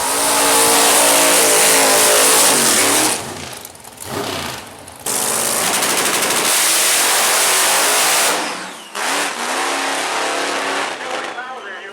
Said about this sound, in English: here comes Casey Sims with his great-looking Chevrolet Vega